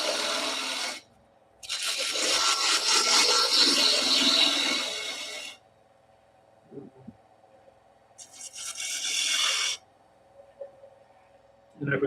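A spindle gouge cuts wood on a lathe in loud, rough scraping bursts. Two long passes come up close, separated by quiet stretches in which a faint motor hum continues.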